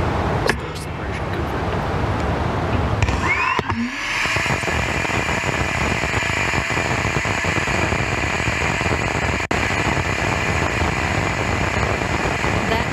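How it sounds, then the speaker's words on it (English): A steady, hissing roar of an electric pump-fed rocket engine firing in space fills the clip, broadband and constant like static, holding level after a brief shift near the start. "That was the sound of an electric pump-fed rocket engine in space."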